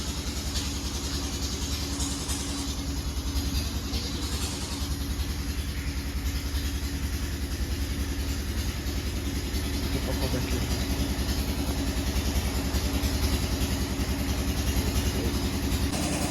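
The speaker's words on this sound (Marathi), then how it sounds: "लाईट गेलेली आहे, आमच्या जनरेटर लावलेला आहे." A generator running during a power cut keeps up a steady, loud engine drone with a constant low rumble and a thin high whine from start to finish, with no talk over it.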